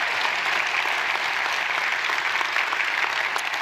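An audience at an education awards evening held at a church claps loudly and evenly, a dense, sustained wash of applause with no breaks.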